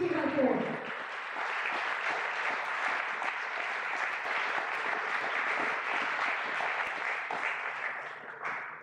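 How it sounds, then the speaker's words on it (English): At a 15x4 Talks science event with thousands of guests, the audience breaks into sustained applause. The crowd claps as a thick, unbroken roar that stays level before tapering slightly near the end. "we should give a huge applause to the team of 15x4."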